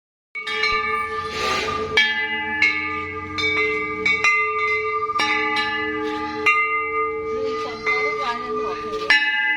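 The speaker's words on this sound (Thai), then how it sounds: "เคาะระฆังรอบโบสถ์นะคะ" Bells struck one after another around a Thai temple, bright metallic clangs every second or so with long ringing overlapping tails, close and loud.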